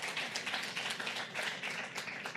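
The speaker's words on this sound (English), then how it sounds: "So round of applause for all of them." Applause rings out for Israel Day honorees at the New York Stock Exchange: dense, steady clapping from many hands that fills the space evenly and stays close and loud throughout.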